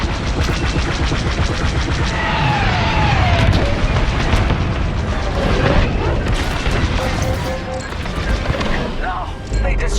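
A Corvette blown apart in Star Wars Squadrons, heavy booming blasts and crackling debris layered over laser fire and engine noise, loud and dense, with voices talking partway through.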